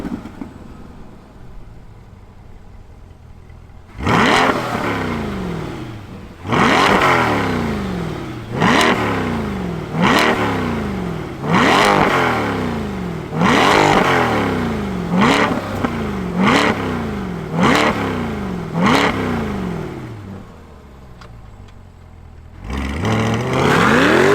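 2022 Chevrolet Corvette C8 V8 engine revved hard about eight times in a row, each blip rising sharply and falling away, loud and close, followed by a pause and one more rev.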